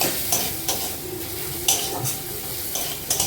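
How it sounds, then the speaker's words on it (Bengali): A spice masala with coriander powder sautéed in oil in a pan for a pointed gourd dish: a steady low sizzle broken by several sharp metallic scrapes and clinks of a spatula against the pan, close up, with no talk. "আর ধনে গুঁড়ো সব দিয়ে কিন্তু আমি মশলাটাকে কষিয়ে নেব ভালো করে"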